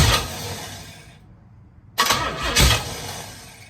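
A 1968 Pontiac Firebird engine cranks with a steady starter churn, drops out briefly, then catches and fires loudly with a couple of rising revs nearby.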